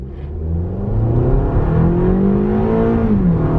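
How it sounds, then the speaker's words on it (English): A 2022 Toyota RAV4 XLE engine revs hard under acceleration, its pitch climbing steadily, loud and close, then dropping slightly at the end. "Can you hear how hard that engine is working?"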